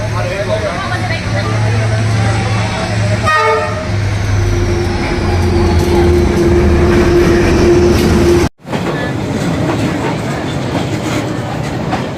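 A train rumbles past close by along Vietnam's Train Street with clattering wheels and a drawn-out horn blast, steady and loud, with voices talking under the noise.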